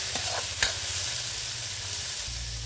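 Garlic and tomato sautéing in hot oil for a Filipino dish, a steady close sizzle with a couple of sharp stirring scrapes early on, no voices.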